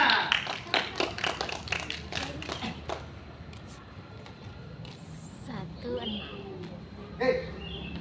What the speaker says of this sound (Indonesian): Tepuk tangan bagi untuk kita.